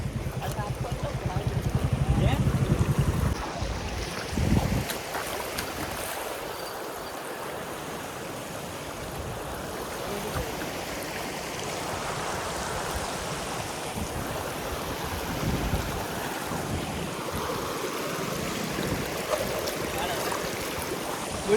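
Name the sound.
river water flowing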